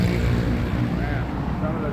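Roadside traffic at a police checkpoint in Dauin, Philippines: a continuous broad wash of passing vehicle noise and engine hum, fairly close, with voices faintly mixed in.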